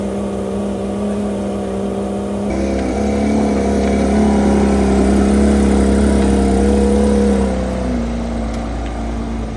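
A Porsche 992 GT3 RS engine idles, then revs up into a sustained high, rising tone that holds and settles back, loud and close with no talk.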